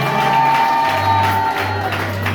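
A church congregation loudly acclaiming the Lord during a service in Kolwezi, a sustained wash of cheering, shouting and clapping from a large crowd, loud throughout, with a low hum underneath.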